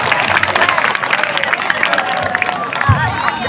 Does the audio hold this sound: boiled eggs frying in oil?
no